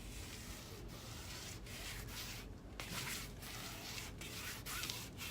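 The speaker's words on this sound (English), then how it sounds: "if you run your fingers over a corner, listen to it." Fingertips rubbing over freshly hung wallpaper at a corner give a faint, close scratchy rasp in steady repeated strokes, with brief pauses between passes.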